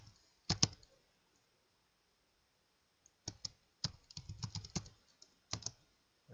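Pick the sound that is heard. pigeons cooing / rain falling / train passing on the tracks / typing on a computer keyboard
typing on a computer keyboard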